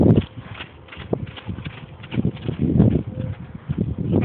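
Hoofbeats of a horse trotting in an arena during a riding lesson, a steady rhythmic clip-clop fairly close, with a few soft background bird calls and no talk over it.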